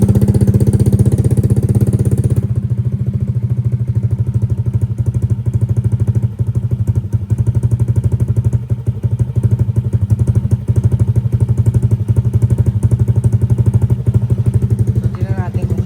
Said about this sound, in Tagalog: last sound check, idle. Ito muna yung idle.